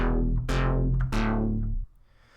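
A synth processed with a ripple delay effect plays three chords, each with a bright swelling attack and a smeared, shimmering tail that overlaps the next, ending in a faint fading echo.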